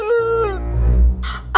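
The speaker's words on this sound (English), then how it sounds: "The chicken's right beside me." Chicken close by gives a short, high crowing call, followed by a low rumble and a brief scratchy noise, with no talking.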